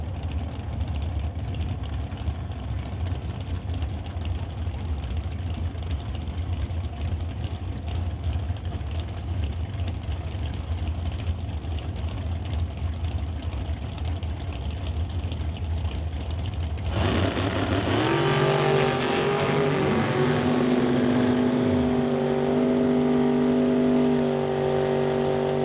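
Drag racing at Spitzer drags in Renton, Washington, with Anthony Katnick of TK Performance racing Danny Hodder: a steady loud engine drone gives way partway through to sharper, louder revving as the cars launch and pull away.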